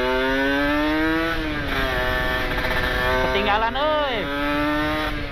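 A Kawasaki Ninja RR two-stroke motorcycle fitted with a 13-39 gear set revs and accelerates close by, its rising and falling engine whine climbing through the gears with a quick throttle blip, while a rider talks over it.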